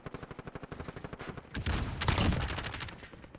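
Rapid automatic fire from the Berliner gun in Modern Warfare Warzone, a fast even stream of close shots for about a second and a half, then a louder dense burst with sharp reports as the target is hit.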